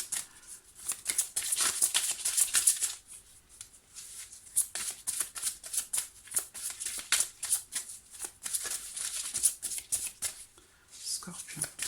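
Tarot cards drawn and handled from a deck, giving a long run of soft crisp shuffling and sliding rustles close up, with a faint voice murmuring at moments.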